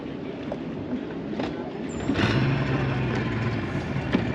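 A steady boat motor drone runs throughout over broadband water and wind noise on a morning boat trip in Nicaragua, growing louder about halfway through, with a low engine tone holding steady.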